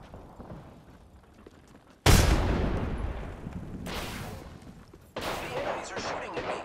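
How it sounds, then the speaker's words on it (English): Enemy gunfire in Apex Legends breaks out in sudden loud bursts of rapid shots over a quieter battle ambience, with a second burst following a few seconds later. "The enemies are shooting at me."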